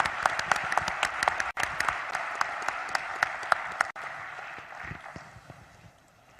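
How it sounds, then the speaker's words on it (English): An audience at a business summit panel applauds with dense, continuous clapping from many hands, moderately distant and fading gradually toward the end. "Please join me in a huge round of applause for our panel."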